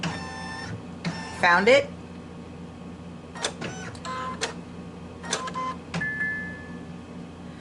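Embroidery machine scanning a quilt project set in its hoop, with short mechanical whirs, clicks and a few electronic beeps in bursts, close by, and a brief spoken question.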